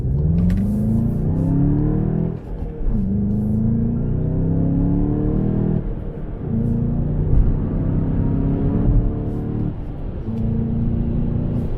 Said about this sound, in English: It feels natural the way this car accelerates.